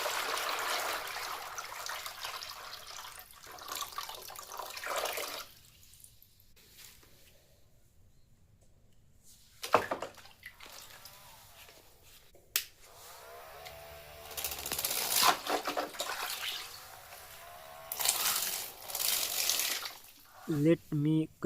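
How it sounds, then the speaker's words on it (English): Pure water is poured into soft plastic putty for a scrap-built remote control boat, coming as intermittent gushing, splashing bursts with quieter gaps between them. "Pure water into the plastic putty."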